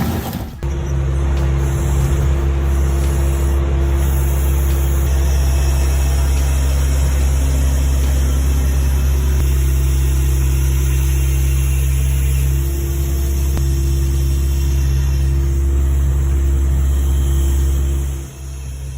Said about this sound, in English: This hydraulic scrap baler delivers 180 tons of compressive force, powered by a 75 horsepower motor.